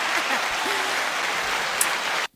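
A canned applause effect plays in a dense, even burst of clapping and then cuts off abruptly to silence.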